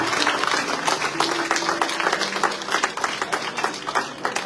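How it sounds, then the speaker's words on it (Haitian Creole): A church congregation claps steadily for a few seconds, with a dense, slightly uneven patter of many hands and faint voices mixed in. "maintenant nous applaudissons cet esprit de Dieu"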